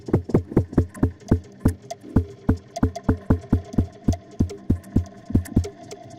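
A distorted electronic drum pulse beats in a steady double-thump heartbeat rhythm in a techno track, repeating about a dozen times with a reverberant tail and a faint hum beneath.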